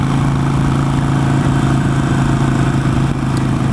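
A Harley-Davidson Nightster motorcycle engine drones steadily and loudly while riding on open road, a deep continuous rumble with no talk over it.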